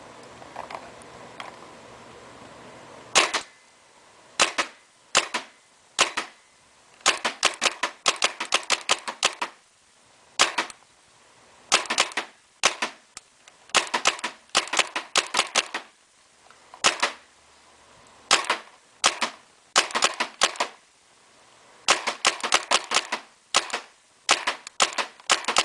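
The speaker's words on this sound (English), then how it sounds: "This is my shooting test for the Tippmann 98 Custom." A Tippmann 98 Custom paintball marker fires sharp, close, loud pops, single shots and rapid bursts separated by short pauses, with no other sound between them.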